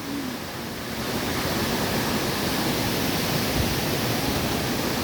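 Abralala Falls pours with strong force, a dense, steady roar of rushing water that swells slightly after the first second and then holds constant and close, with no voices over it.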